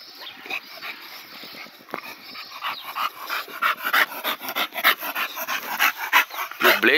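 Several American Bully dogs pant loudly right at the microphone, with fast rhythmic breathing, snuffles and small whimpers, while someone talks over them.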